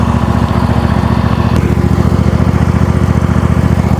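A lawn mower engine runs close and loud with a steady, rough, throbbing drone and no change in pace throughout.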